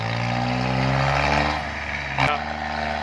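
A model 852 tractor engine drones loud and close with a steady, deep harmonic rumble that eases slightly midway, and a single sharp knock sounds near the end.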